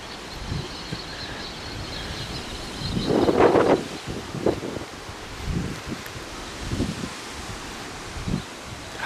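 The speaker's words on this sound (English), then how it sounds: "It's windy and it's cold." Cold wind blows steadily outdoors, with a low rushing hiss, occasional gusts buffeting the microphone and nearby rustling, all fairly faint and with no voices.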